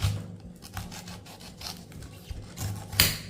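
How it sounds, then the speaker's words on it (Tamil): A knife cuts through a whole pineapple, giving short rough rasping and scraping strokes across the tough skin, close and fairly quiet, with a sharper scrape near the end. "ஒரு அன்னாச்சி பழம் எடுத்திருக்கேன் இதை வந்து கட் பண்ணிக்கிடுவோம்"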